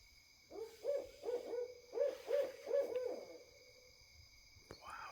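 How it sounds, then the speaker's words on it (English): A large hoot owl calls in the dark night, a series of about seven deep, rhythmic hoots in quick succession, clear and moderately near against quiet background hiss, followed by silence. "But this is a hoot owl, and he sounds like a big one."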